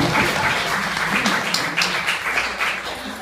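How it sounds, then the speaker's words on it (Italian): Steady applause from a crowd, sustained and fairly loud throughout, with dense overlapping claps. "Fate l'applauso."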